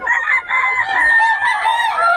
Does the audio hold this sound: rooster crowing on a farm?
yes